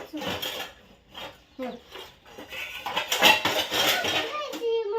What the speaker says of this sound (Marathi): अगं भांडी खाली पडतात